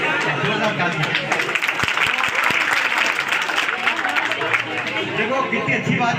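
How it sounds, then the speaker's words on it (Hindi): A seated audience at a child-protection talk breaks into loud, dense hand clapping that holds steady throughout, a few sharper claps standing out within the continuous roar. "बहुत बढ़िया, जोरदार ताली।"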